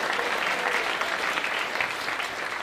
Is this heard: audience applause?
yes